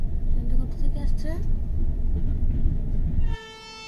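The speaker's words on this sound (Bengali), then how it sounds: "ট্রেনটা কোথা থেকে আসছে?" The Padatik Express (12377, Sealdah to New Alipurduar) pulls into Dalkhola station with a loud rumbling roll, voices talking nearby, and a sustained horn blast sounding just at the end.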